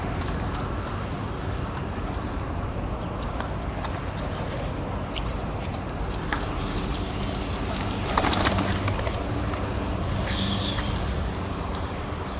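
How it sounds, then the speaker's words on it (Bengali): Kept pigeons flutter and coo around a person outdoors, their soft cooing set against a dense, constant rush of wing noise and background hiss, with a louder burst of flapping partway through. "দেখুন কবুতর উড়ন্ত অবস্থায় কত ভালো লাগে, কত সুন্দর লাগে দেখুন।"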